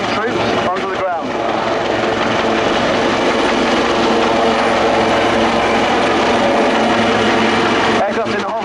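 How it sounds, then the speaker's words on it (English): A naval helicopter of 85 Naval Air Squadron hovers at an airshow while troops rope down from its doorway, a loud steady rotor and engine roar running throughout with a commentator's amplified voice over the top. "Aircraft in the hover now, flown by Lieutenant Commander Marty Van Doon, the senior pilot of 85 Naval Air Squadron"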